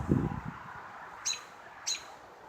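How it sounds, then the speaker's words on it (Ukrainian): Outdoors in a vegetable garden in early June, a small bird lets out two brief, bright chirps about half a second apart, preceded by a low rustle, against a steady soft background hiss. "Така прекрасна пташка."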